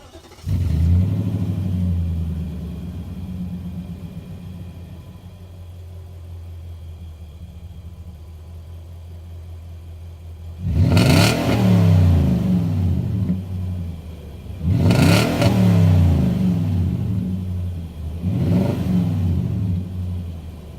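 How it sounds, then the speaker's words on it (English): Stock exhaust of a 2018 Nissan Titan SV pickup starting up and settling into a low idle rumble, then three sharp revs that rise and fall, heard from inside the cab with no talk. "I'll fire this thing up and let y'all hear what stock exhaust sounds like."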